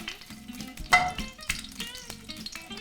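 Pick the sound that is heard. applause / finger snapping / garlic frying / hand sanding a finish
garlic frying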